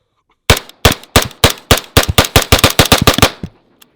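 Suppressed rifle fire through Surefire and other suppressor cans, a rapid string of about fifteen sharp, loud shots in an uneven rhythm, close by, with no talk.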